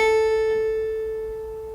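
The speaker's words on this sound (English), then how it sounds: "So if I play one note on the lower, on the principal manual," A single harpsichord note on the lower principal manual rings out and slowly decays, a bright plucked tone with rich overtones sounding alone.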